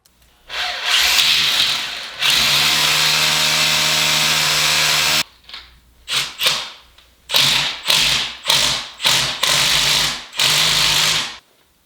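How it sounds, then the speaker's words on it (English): Impact driver sinking Tapcon screws into concrete: a long sustained hammering whir, then a run of short repeated bursts, loud and close with no talking. "I've got my impact down here, drilling in these Tapcon concrete screws."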